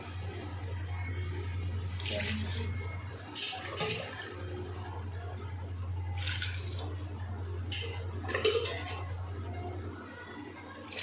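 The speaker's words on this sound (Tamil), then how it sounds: "மூணு டம்ளர் அரிசிக்கு வந்து 6 டம்ளர் தண்ணி ஊற்ற போகிறேன்." Water pours into rice in a pot while chicken biryani is cooked at home, a steady splashing stream over a constant low hum, with a few louder bursts of liquid and clinking.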